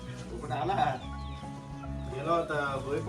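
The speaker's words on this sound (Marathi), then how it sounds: "तुमच्या आहेत काय कोंबड्या सगळ्या" Chickens in a Konkan village yard cluck close by in short bursts, with people talking over them.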